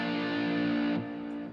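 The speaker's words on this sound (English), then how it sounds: "Now a major chord would sound like this," A major chord strummed once on guitar with a slightly driven tone, ringing for about a second before fading; close, moderately quiet, no talking.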